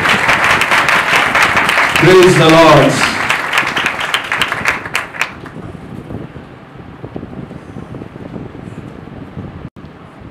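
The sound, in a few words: congregation applause in church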